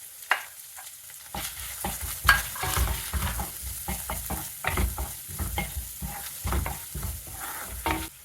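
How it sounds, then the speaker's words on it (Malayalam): Chopped onion frying in a pan for dal curry, a steady sizzle broken by repeated stirring scrapes and clatters at an irregular rhythm, close and moderately loud. "ഒരു മീഡിയം സവാളയുടെ പകുതി അരിഞ്ഞത് ചേർത്ത് കൊടുക്കാം"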